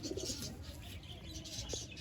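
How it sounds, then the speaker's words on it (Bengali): A pigeon with a closed-tail build coos softly among other birds at a sale, low murmuring calls under steady background noise with scattered chirps. "বন্ধ দমের পায়রা আছে।"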